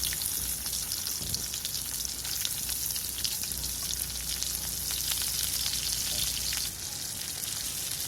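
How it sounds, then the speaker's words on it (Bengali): Chopped onions fry in hot oil in a wok with bay leaf, a steady loud sizzle and crackle running throughout with a brief dip near the end, no talking. "আমার পেঁয়াজ লাল লাল সুন্দর করে ভাজা হয়ে গেছে"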